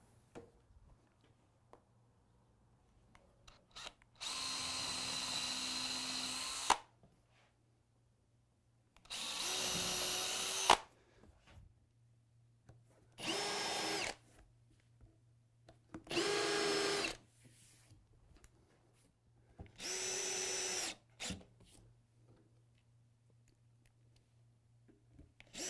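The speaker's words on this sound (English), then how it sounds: "Just going to go ahead and pre-drill and countersink some screw holes" In a home garage, a power drill pre-drills and countersinks screw holes in workbench wood: five separate loud whirring bursts of a few seconds each, with quiet pauses between them.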